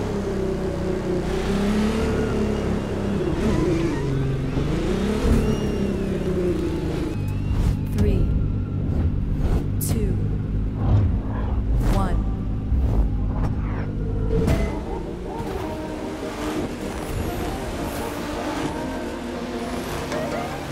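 Nissan GT-R engine roaring in The Crew 2 racing game, a loud continuous drone with shifting revs, steady gear pitch changes and acceleration, with someone talking over it much of the time.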